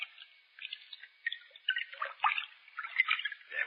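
Water sloshes and splashes in a bathtub as someone steps in, a radio drama effect heard as a series of soft, thin, muffled splashes that come and go irregularly.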